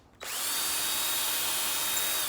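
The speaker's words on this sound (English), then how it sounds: "now I'm just going around and drilling those out" A power drill runs steadily as it bores holes in a giant baseball glove trophy sculpture, starting abruptly and holding a loud, even whine close by with no talking.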